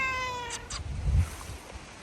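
A domestic cat meows close by in an outdoor garden setting, two short tonal meows followed by a low rustling thump, fairly quiet overall.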